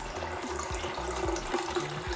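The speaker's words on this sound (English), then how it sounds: "So now we're gonna add some water to the beans to help it cook." Water running from a tap into a pot of washed beans being readied for gbegiri stew, a steady near splashing stream that carries on without a break.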